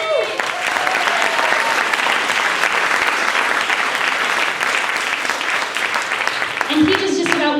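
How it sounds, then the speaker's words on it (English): Loud, sustained audience applause at a Workers Defense Project gathering, dense clapping filling the room steadily for several seconds with a few whoops and a voice near the end. "So I actually want a big applause for the building"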